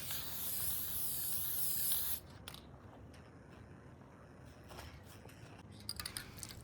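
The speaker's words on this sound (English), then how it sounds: "make sure you do follow the instructions on this can of varnish and give it one light coat" A spray can of varnish hisses steadily onto an acrylic painting for about two seconds, loud and close, then stops, leaving quiet room noise with faint taps and scrapes.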